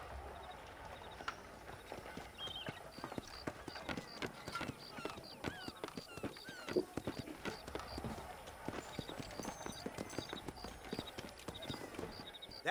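Horses' hooves clip-clopping in the video game Red Dead Redemption, a busy, continuous patter of many hoofbeats with occasional faint whinnies and a voice speaking.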